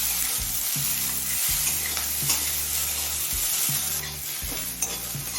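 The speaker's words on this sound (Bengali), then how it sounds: "এখন পেঁয়াজটা লাল হয়ে আসা পর্যন্ত ভেজে নেব" Two medium chopped onions fry in hot oil for a kudri dish, a steady close sizzle broken by regular scraping stirs every second or so until they turn reddish; no talking.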